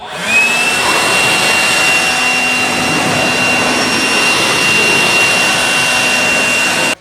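Compressed air hisses in a loud, continuous blast against a car's steering components during a custom steering rack upgrade, steady and close for about seven seconds before cutting off abruptly.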